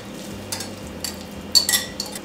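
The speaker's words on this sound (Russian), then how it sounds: "Все хорошенько перемешиваем." A spoon stirs batter with minced pollock fish in a bowl, giving soft wet scraping strokes and a few light clinks, close and without speech.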